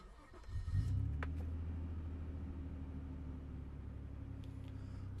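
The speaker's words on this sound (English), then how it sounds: "here is starting the vehicle" A Nissan Stagea engine cranks and catches, rising to a brief rev before settling into a steady, close idle rumble that continues to the end.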